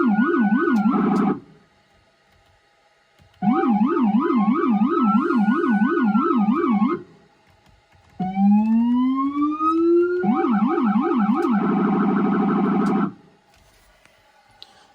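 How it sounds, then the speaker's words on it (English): Electronic siren of a 2021 Ford Police Interceptor Utility cycling through its modes, including a loud rapid yelp, a rising sweep and a wail, in long loud bursts separated by brief pauses. "You can also control the siren from the 4200 itself."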